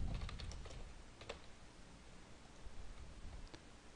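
Keys clatter on a computer keyboard in short, quiet bursts of clicks with pauses between, faint over a steady hiss.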